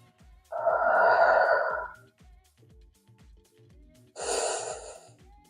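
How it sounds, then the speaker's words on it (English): Two deep, slow breaths during a yoga stretch, a long close airy exhale lasting over a second followed after a pause by a brighter, breathier second breath, with faint soft background music. "Take 5 cycles of breath here."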